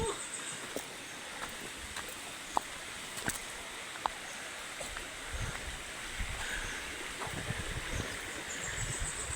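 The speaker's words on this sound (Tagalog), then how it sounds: "Naririnig ko na yung rumaragas ang tubig na nagmumula sa taas ng Mayon Volcano." Rushing water from a waterfall stream flowing down from Mayon Volcano, heard as a constant broadband hiss, with scattered sharp ticks and faint movement on a hiking trail.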